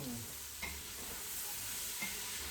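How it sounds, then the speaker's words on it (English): A spoon stirring red beans and rice in a pot over a faint steady sizzle, with a couple of soft scraping strokes, quiet and close, no talking. "Give everything a quick stir."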